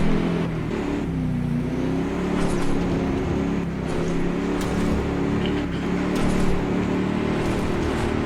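Engine of a 4x4 race car in the off-road racing video game BAJA Edge of Control, droning steadily and revving through a four-gear drivetrain over rough terrain, continuous and close, with no talk.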